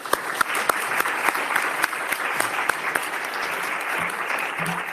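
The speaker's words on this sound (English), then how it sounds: "I'd like to give a round of applause to our speakers once again" At a conference panel discussion on the rule of law conditionality, the audience applauds the speakers with moderately loud, even clapping. A few sharper individual claps stand out early on, and the clapping carries on steadily throughout.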